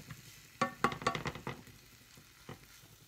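Garlic and onion fry in a pan for a chile poblano en crema, with a soft sizzle broken by a few brief stirring clatters and scrapes, fairly quiet and without talk.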